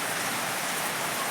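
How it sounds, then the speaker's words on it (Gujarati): Heavy rain pours down in a dense, even hiss, loud and continuous with no talking over it. "વરસાદ જોરદાર ચાલુ થઈ ગયો છે"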